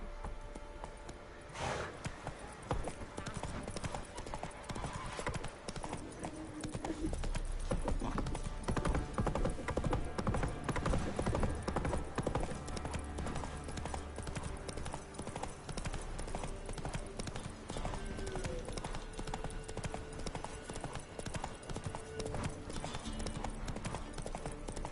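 Roach, Geralt's horse in The Witcher 3, gallops continuously with a fast, steady hoofbeat rhythm up close, layered over game ambience and a low rumble that swells partway through.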